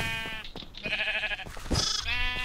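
Sheep in Minecraft, on the Mineplex server during a red-versus-blue team challenge, bleat repeatedly in close, nasal, wavering calls that overlap one another, with no talking.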